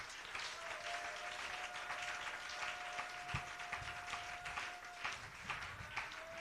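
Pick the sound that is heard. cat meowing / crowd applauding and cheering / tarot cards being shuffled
crowd applauding and cheering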